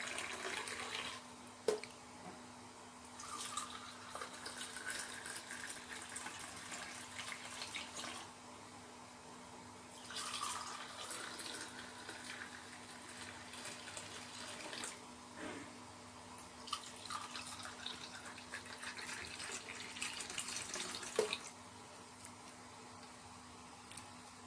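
Milk poured slowly from a height into a container for homemade yogurt, a soft, steady liquid trickle with a few brief splashes, heard alone throughout.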